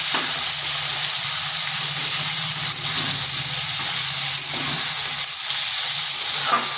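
Kohlrabi and potato pieces fry in a pan with a constant bright sizzle and hiss, softly stirred now and then, no voices.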